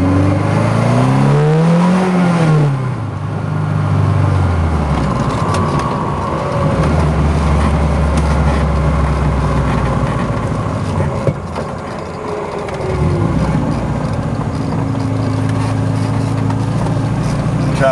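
A 1974 BMW 2002tii four-cylinder engine runs loud and close, rising and falling through several revs with a drop back toward idle partway through.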